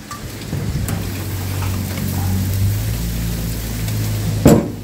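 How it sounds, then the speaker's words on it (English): Steady heavy rain patters onto an outdoor cooking grill and its surroundings with a constant hiss, a loud crack near the end, and no voices. "Oh my God, it's raining cat and dogs, guys. Look, it's raining."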